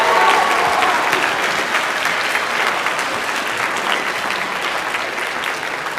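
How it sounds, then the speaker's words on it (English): A school audience applauds at a Fine Arts Week event, loud, dense clapping from a large crowd in a hall, sustained and slowly easing over several seconds. "Give them a round of applause."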